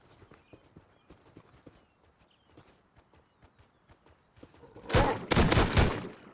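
Rhythmic footsteps patter steadily in the Rust survival game, a quick even run of light thuds, before several loud, close bursts of gunfire break in near the end.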